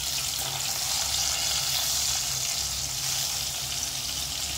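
Pieces of fish fry in hot oil, giving a steady, close, bright sizzle with fine crackling that holds evenly throughout, with no talking.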